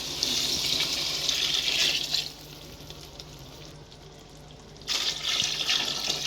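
Water is poured into a pot of mushroom biryani in two bursts, with a gushing splash for about two seconds, a quieter simmering pause, then more pouring near the end, heard close with no voices.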